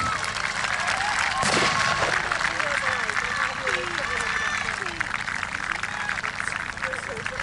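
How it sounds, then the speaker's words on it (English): A crowd claps steadily at an outdoor battle reenactment, with loud talk running over the clapping throughout. "Give them a really good round of applause"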